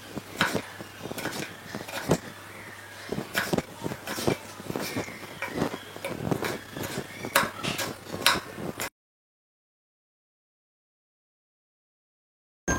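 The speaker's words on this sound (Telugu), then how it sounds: "టమాటోని కూడా చిన్న చిన్న ముక్కలుగా కట్ చేసుకుందాం." A knife chops tomatoes into small pieces on a board, with a quick run of sharp, close taps at uneven intervals for about nine seconds before it falls silent.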